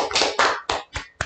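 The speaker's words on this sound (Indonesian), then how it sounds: "Tepuk tangan untuk kita semuanya." A short burst of hand clapping, five loud separate claps close by, uneven in rhythm.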